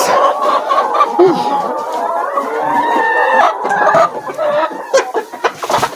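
Many chickens cluck and squawk continuously on a poultry farm, a dense busy chorus close by with occasional sharper calls rising above it.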